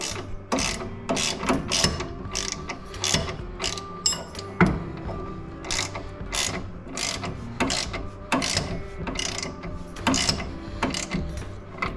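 A hand ratchet tightens a bolt on a VW Super Beetle control arm, giving quick repeated clicking pawl strokes in steady bursts, close and clear with no talk.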